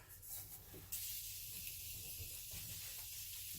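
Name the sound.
spraying face setting spray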